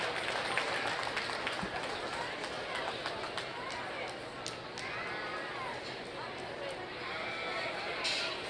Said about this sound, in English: Let's give him a really nice round of applause.